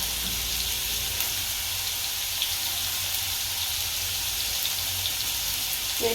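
Water bubbling at a rolling boil with pasta in a pot on a home stove, a steady hissing, seething churn that stays even and close throughout with no pauses.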